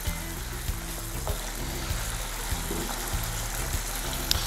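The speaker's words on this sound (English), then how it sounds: "So while that is frying," Ingredients fry steadily in a pan for spaghetti jollof, a continuous close sizzle with bubbling crackle running through the whole stretch, no voices.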